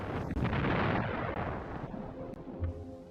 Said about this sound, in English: After a heavy artillery bombardment, the French defenders offered only token resistance